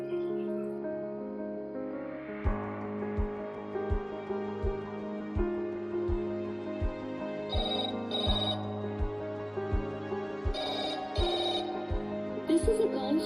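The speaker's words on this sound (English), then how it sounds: "There is a unique ringtone assigned to calls from Namaste Health application to always let the doctor know when he receives a lead." A distinctive phone ringtone for incoming calls from a health app rings over background music, with repeated bell-like tones beginning a few seconds in and sounding at a steady pace throughout.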